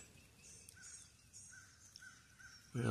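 A few faint crow-like caws sound from a distance over a quiet, damp outdoor background of trees dripping after fresh rain, followed by a louder low rumble at the very end.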